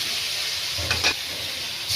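Spices lightly frying in a small amount of oil in a home kitchen: a steady, close sizzling hiss with a couple of soft stirring scrapes near the middle, no voices.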